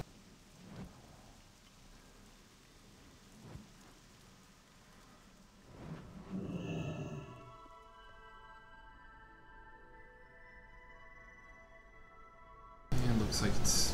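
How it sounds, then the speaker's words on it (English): Low, distant rumbles of thunder roll in a few times through steady rain, the longest swelling midway, and a loud burst of noise cuts in near the end. "I'm hearing thunder from it again, I think."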